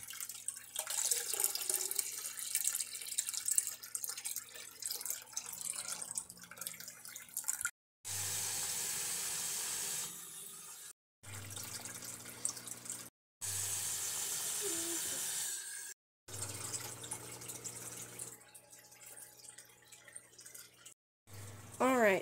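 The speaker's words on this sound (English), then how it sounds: "we're going to take this cup, we're going to head to the bathroom, and we're going to get some extra water in the tanks" A bathroom tap runs into a cup to top up fish tanks, several bursts of splashing, hissing water broken by short cuts, with talking at times.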